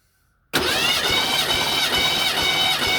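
1987 Mercury Cougar with 375k miles, engine cranking over steadily during a compression test on cylinder 8, starting abruptly after a brief silence and continuing loud and close with a rhythmic churning drone.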